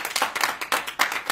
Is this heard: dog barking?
no